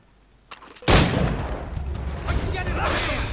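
Gunfire in Assassin's Creed 3 erupts after a brief lead-in: a loud volley of shots breaks out and continues as a dense, rattling burst with echoing reports.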